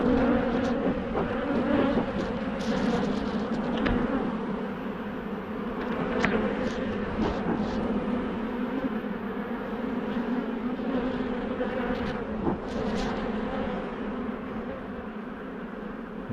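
Honeybees fanning inside a hive during queen rearing, a steady dense buzzing hum that holds throughout at close range with no talk.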